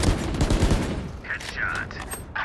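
Gunfire in the game Valorant, a quick burst of loud close shots at the start followed by sharper game effect tones, with in-game voice callouts heard over it.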